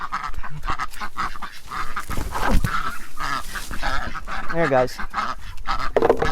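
Caged ducks quack and honk close by, a busy overlapping chorus of calls with someone talking briefly over them.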